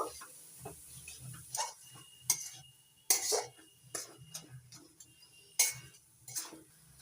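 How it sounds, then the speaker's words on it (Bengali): Jaggery being stirred with grated coconut in a pan, a spoon scraping and clinking against the metal in irregular bursts, close and fairly quiet with a low hum underneath and no talk. "এবার নাড়াচাড়া করে গুড়টা নারকেল কড়ার সঙ্গে ভালো করে মিশিয়ে নেব।"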